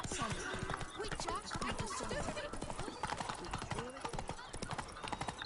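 Horse hooves clip-clopping at a brisk trot in the Witcher 3 video game, a rapid continuous galloping rhythm, close and clear, with someone talking over it.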